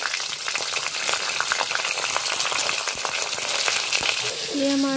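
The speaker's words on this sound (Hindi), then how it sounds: "तेल में हम डाल देते हैं 2 सूखी मिर्च और 3 तेज़पत्ता। प्याज डाल देते हैं।" Onion frying in hot oil with two dried chillies and three bay leaves, a loud, close, continuous sizzle with faint stirring scrapes throughout.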